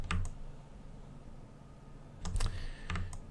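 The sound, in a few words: computer keyboard, pressing Alt+W shortcut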